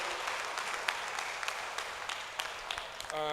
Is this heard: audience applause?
yes